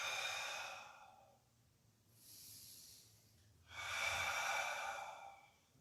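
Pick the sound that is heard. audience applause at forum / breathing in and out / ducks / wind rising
breathing in and out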